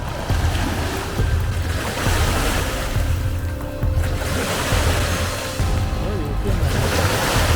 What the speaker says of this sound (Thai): ดูครับดูคลื่นมา ผมก็ว่าอยู่ดีทำไมคลื่นมันแรงจังขนาดลมสงบเนี่ยลมสงบมาก